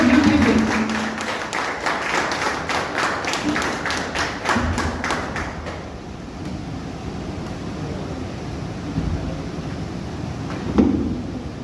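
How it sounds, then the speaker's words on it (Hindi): Audience applause for Mr. Subhash at an AWPL event: dense clapping for about five seconds, then fading into softer scattered claps and room noise, with a brief thump near the end. "मिस्टर सुभाष सर के लिए एक बार जोरदार तालियां होना चाहिए"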